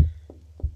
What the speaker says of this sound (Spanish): Estos son escaleras que suenan más como si estuviesen llamando a la puerta